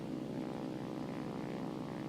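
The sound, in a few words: propeller plane engine in War Thunder, video game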